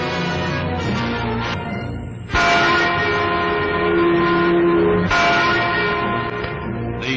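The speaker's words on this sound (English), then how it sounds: "The Freedom Bell in West Berlin tolls in sympathy for East Germans on the first anniversary of the Wall of Shame" The Freedom Bell in West Berlin tolls loudly, its deep metallic strikes landing twice and each leaving a long, rich, humming ring that carries into the next.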